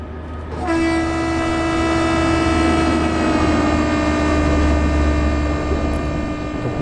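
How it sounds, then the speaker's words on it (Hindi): Kamayani Express train in Train Simulator Classic pulling into Satna station, with a long sustained horn blast starting early over a steady low rumble of the moving train, loud and continuous throughout. "तो कामा यानी एक्सप्रेस सतना स्टेशन पहुंच रही है"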